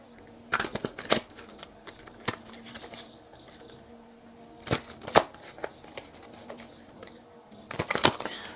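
Tarot cards are drawn and shuffled by hand in several short bursts of crisp riffling and snapping, close up, with quiet gaps between them and no speech.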